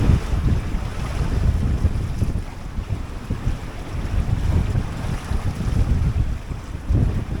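Strong wind roars over the microphone aboard a small 21 foot sailboat in high winds and building seas, with gusting low rumble and water washing around the hull continuing throughout.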